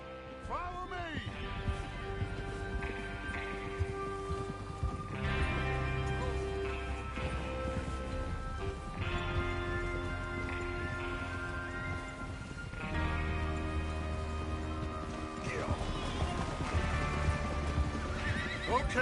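Horses in the video game Red Dead Redemption gallop with rapid clip-clopping hooves and let out repeated loud whinnies, mixed with a game soundtrack and speech-like sounds.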